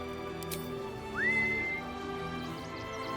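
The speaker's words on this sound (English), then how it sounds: "Whistle for Scratch." In Baldur's Gate 3, a single short rising whistle calls the dog Scratch, faint over quiet ambient game sound.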